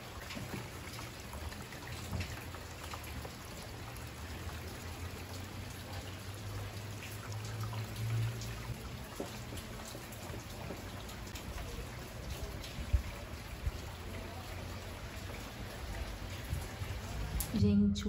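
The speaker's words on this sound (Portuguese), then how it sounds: "E essa chuva aqui foi benção de Deus" Steady rain falls and patters on surfaces in a continuous, even hiss, faint and unbroken, with no voices.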